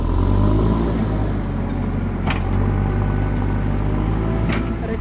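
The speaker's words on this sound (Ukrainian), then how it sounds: "Так, суне льовкий тракторець," A small compact tractor drives up near a house being cleared of overgrowth, its engine a steady close rumble throughout.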